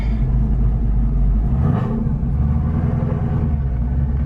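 A 1000-horsepower Camaro ZL1 pulls away in first gear, its loud, steady low engine rumble filling the cabin with a brief shift in tone midway and no talk over it.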